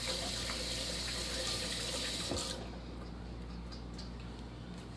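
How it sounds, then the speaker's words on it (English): Water from a kitchen tap runs steadily as hands are rinsed at a sink, a loud close continuous rush that drops to a softer flow partway through, with no talking. "let me give my hands a rinse"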